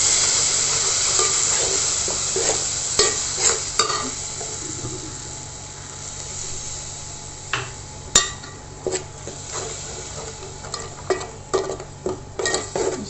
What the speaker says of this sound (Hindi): अब हम इसमें थोड़ा थोड़ा पानी ऐड करके इसे भूनना स्टार्ट करेंगे।